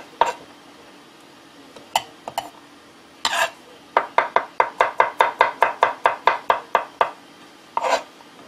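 A knife chopping garlic cloves on a cutting board for aglio e olio, a few scattered cuts, then a quick even run of about a dozen crisp taps, close and clear.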